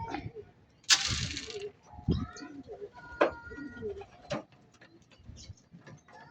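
Young racing pigeons cooing at the loft on arrival from a summer race, short low coos and scattered clicks and taps with a brief rush of noise, as someone talks intermittently nearby.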